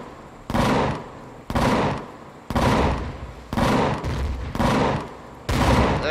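Cannon fire in the space game Empyrion Galactic Survival during a base attack: six loud, evenly spaced bursts about a second apart, each a broad roaring blast with a short rumbling decay.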